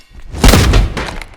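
A skeleton is smashed apart in Exanima, a single close, heavy thud with a brittle crunch that rings out briefly and fades.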